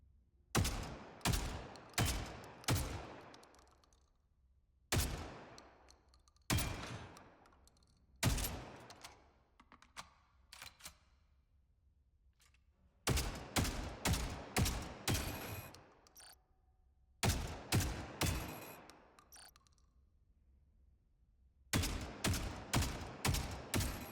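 M18 Drummer weapon in the game Spectre Divide firing in repeated loud bursts of rapid shots with sharp cracks, separated by short pauses and reload gaps, with no talking.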